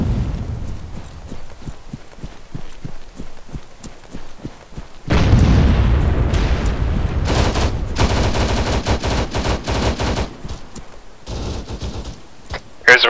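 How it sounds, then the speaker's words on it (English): Gunfire in the Arma-based TacBF military game starts as a regular run of sharp, evenly spaced shots, then breaks into long, dense, loud bursts of machine-gun fire with brief gaps and a final crack at the end. "There's a machine gun right there."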